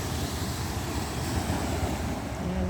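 Waves splash against the shore on a windy seaside afternoon, a continuous broadband wash of surf mixed with wind rumbling on the microphone, steady and fairly close with no voices.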